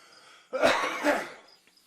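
One close, raspy cough in two quick bursts, breaking an otherwise quiet moment.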